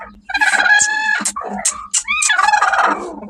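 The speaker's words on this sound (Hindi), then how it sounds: "ये मुर्गी है ना" A brooding hen, a chicken sitting on eggs for two days, gives loud agitated close-up clucks and squawks in quick irregular bursts.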